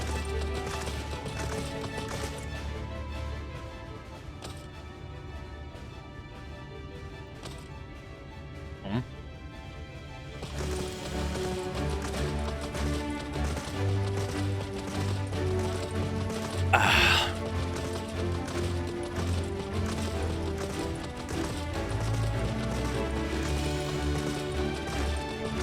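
A horse mount gallops in a video game, its hoofbeats clip-clopping in a steady running rhythm over continuous background game sound, with a brief sharp burst partway through.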